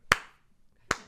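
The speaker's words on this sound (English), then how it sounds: "you know that isolated echo clap" Two sharp, isolated hand claps from a sparse audience, each a single crisp smack with a short echoing tail, separated by nearly a second of quiet.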